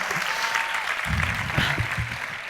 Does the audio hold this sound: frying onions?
no